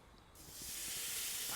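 A beef steak hits a hot barbecue grill and a bright sizzle builds quickly, then holds as a steady hiss.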